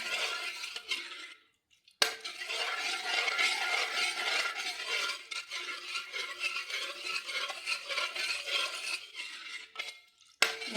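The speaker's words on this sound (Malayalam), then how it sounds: "നമുക്ക് നല്ലോണം കൂട്ടിയെടുക്കാം" A spoon steadily stirs a ragi mixture in a pan on a stove, scraping and swishing continuously at close range, with two brief pauses and no talking.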